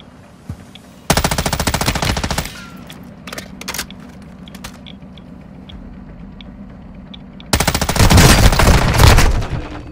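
Video game machine gun fire in long sustained bursts, loud and close, with scattered single shots and a lull between the two main volleys.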